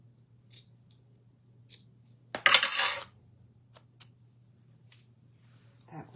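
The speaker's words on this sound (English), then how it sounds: "Let's snip it so I can get it through there easier." Scissors snip through frayed material in a quiet room with a low steady hum, giving one loud, short burst of cutting and a few faint clicks around it.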